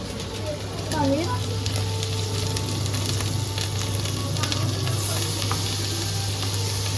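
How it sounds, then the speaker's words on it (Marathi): Paneer slices sizzle and fry steadily in a hot pan for shahi paneer, a continuous bright crackle with a brief stir or scrape near the start, close and fairly loud, with no talk over it. "थोडे फ्राय होते."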